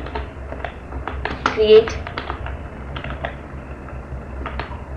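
Fast, light tapping on a computer keyboard while SQL syntax to create a database is entered, scattered keystrokes close by under someone talking in Hindi.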